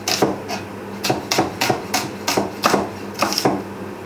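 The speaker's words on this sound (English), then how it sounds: "while that's foaming we're just going to slice the onion" A knife slices an onion finely on a cutting board, giving about ten crisp, evenly spaced chops that sound close and clear with no talking.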